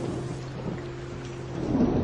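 Heavy rain pours outside in a steady dense hiss, joined by a low rumble of thunder that swells toward the end of the brief stretch.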